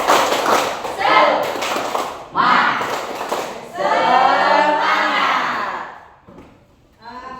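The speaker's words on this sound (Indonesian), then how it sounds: "Tepuk semangat." A classroom group does a rhythmic spirit clap, bursts of clapping mixed with loud children's voices and chanting, then a brief pause and a final clap.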